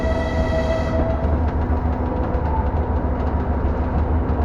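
Diesel locomotive on the Kyiv children's railway runs with a steady low engine rumble and rolling rail noise, close and loud throughout, with no talking.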